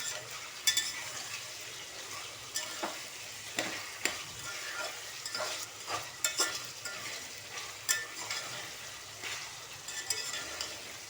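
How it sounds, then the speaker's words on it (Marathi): Onions sauté in a pan for chicken pulao, a soft steady sizzle broken by quiet, irregular scrapes and taps as they are stirred. "त्या कांद्याला आपण छान परतून घेऊया त्याचा रंग बदल्यापर्यंत"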